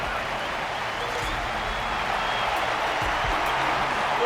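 An audience in a fantasy combat arena in Honkai Star Rail keeps up steady applause for a fighter, a faint, even wash of clapping with no breaks.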